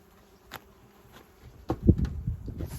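Honey bees buzzing around an opened hive whose first boxes are full of bees, a soft low drone with a few louder close passes toward the end.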